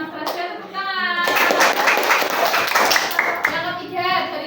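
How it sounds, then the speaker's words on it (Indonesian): Classroom clapping from a group of students bursts in after a voice, dense and steady for a few seconds, with children's voices speaking around it at the start and end. "Tepuk tangan."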